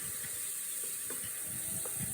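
Monkfish pieces browning in a hot pan with a lemongrass stalk for a coconut-milk curry, a steady close sizzle and hiss with small bursts of spitting and stirring.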